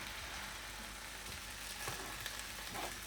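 Egg frying in a pan for fried rice, a steady soft sizzle and crackle with light scraping as it is broken up and stirred in.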